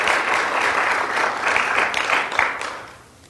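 A lecture hall audience bursts into sustained applause at a tenure lecture, loud and dense for a few seconds before tapering off.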